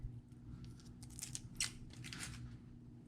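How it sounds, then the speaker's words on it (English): Protective film peels off the screen of a RadioLink RC4GS V2 radio transmitter in a few soft, close crackling pulls and rips spread over a few seconds, faint and quiet with no talking. "Let's peel this off."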